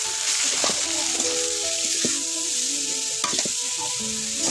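Bottle gourd leaves stir-fried dry in a hot pan, a steady close sizzle with scraping stirs and clinks of the spatula against the pan at irregular moments.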